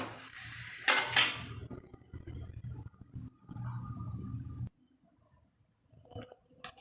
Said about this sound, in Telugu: ఈ సైడ్ కానీ తిప్పేసుకుందాం